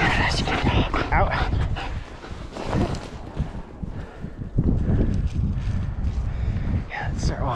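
A tracking dog trailing humans outdoors, yipping and whimpering excitedly in close, repeated bursts under a handler's loud, eager praise, with some wind noise throughout.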